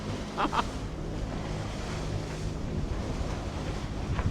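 Waves crash on a reef off Dunk Island, heard from a sailing boat as a faint, distant, continuous surf wash under wind buffeting the microphone.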